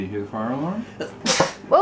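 A single sharp sneeze bursts out at a family home, loud and close, amid casual talk from several people with a fire alarm mentioned nearby.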